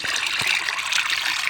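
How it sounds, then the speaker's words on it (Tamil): Fertilizer is stirred into water in a 10-litre bucket, giving a close, steady trickling and sloshing with a couple of soft knocks near the start, and no speech. "இப்போ இதை ஒரு 10 லிட்டர் பக்கெட்டில் நாம் கலந்துக்கிட்டோம்."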